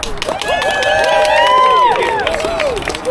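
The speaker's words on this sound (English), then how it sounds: "Oh, and applause." A crowd at a street protest outside a migrant hotel cheers and whoops loudly, with voices rising and falling together over scattered clapping, close and sustained throughout.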